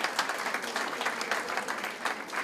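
Audience applause at a seniors' club Mother's Day celebration in East Boston, a steady patter of clapping from a moderate crowd, fairly close and continuous.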